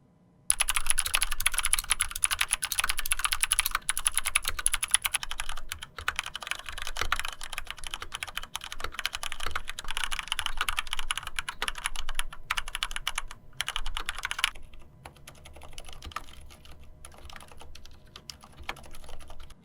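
Rapid clacky typing on a Mars Pro MK3 mechanical keyboard, continuous keystrokes with brief pauses, close and clear, no voices.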